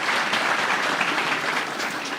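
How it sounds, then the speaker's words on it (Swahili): An audience claps steadily for an introduced guest at a Kenyan political gathering, a dense, continuous round of applause from many people. "CPA Ruto kutoka Keses, mjumbe wa Keses, tumpigie makofi."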